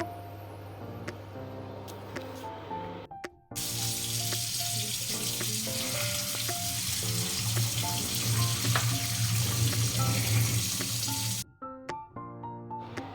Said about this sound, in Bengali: এবার আমি জল ঝরিয়ে নেব।